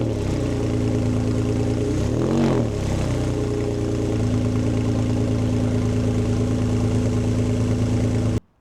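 Porsche 911 996 with its exhaust silencers removed idling loudly and roughly close by, a raw steady drone with a brief blip of revs early on before cutting off at the end.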